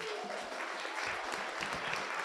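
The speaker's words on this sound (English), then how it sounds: "give yourself a round of applause, everybody" An audience at a space-science talk giving itself a round of applause, a brief dense wash of clapping, faint and steady with a few voices mixed in.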